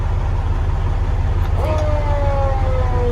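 A fire truck at a fire department station sounds its siren briefly, a rising then falling wail over a steady engine rumble, near and loud.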